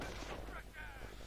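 A couple of sharp, booming gunshots from the World War II strategy game Company of Heroes: Tales of Valor, followed by a brief mechanical rattle, loud and close.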